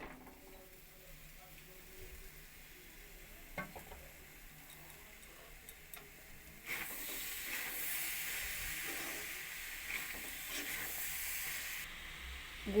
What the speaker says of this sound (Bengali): গুড় নারকেল একসঙ্গে মিশিয়ে নিই